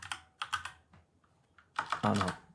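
Keystrokes clatter on a computer keyboard in short, quiet bursts, a few quick taps, a pause with scattered single presses, then a denser flurry of typing, close and alone.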